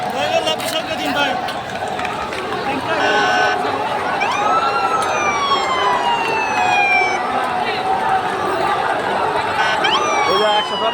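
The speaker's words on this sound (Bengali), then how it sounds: "পুলিশের গাড়ি আইতেছে ভাই, শুধু পুলিশের গাড়ি দেখেন।" Police car sirens wailing at a large street protest march, rising and falling sweeps heard clearly over a noisy crowd with people talking nearby throughout.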